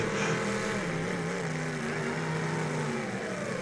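Full-size cars running at a demolition derby give a steady, droning engine roar that holds at an even level throughout, with no talk over it.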